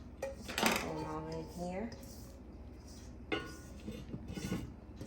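Vegetables added to a pot for an oxtail dish: metallic clanks and scraping of a spoon against the pot, a clattering burst near the start and another later, with a voice speaking briefly in between.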